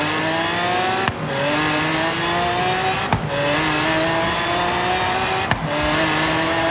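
A Dodge Viper's engine in the racing game Forza Horizon 3 drones loudly and steadily as it climbs through the revs, broken by three sharp gear shifts, with no talk.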